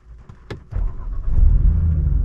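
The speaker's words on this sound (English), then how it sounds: "foot on the brake, start her up" Volkswagen Golf R Mk8 engine cranking and firing up, a brief starter whir followed by the engine catching and settling into a loud, steady idle close by.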